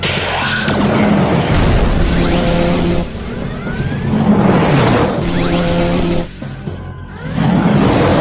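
Explosions from a torpedo scoring a direct hit in the Space Quest video game boom loudly in three big bursts with whooshing sweeps between them, over constant electronic game sound and no talk.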